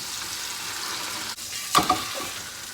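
Sirloin steak sizzling in a pan while being flipped and basted, a constant close frying hiss broken by a brief dip and two quick clattering knocks near the end.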